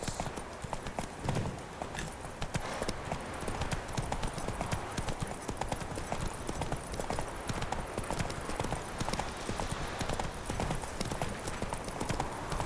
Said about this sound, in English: Let's get on the horse.